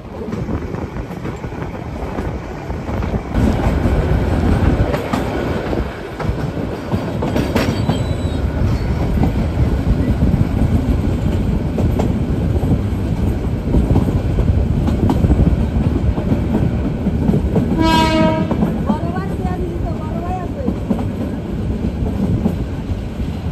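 Sagorika Express meter-gauge commuter train running at speed on the Chattogram route, a loud continuous rumble and clatter of wheels with a short horn blast near the end.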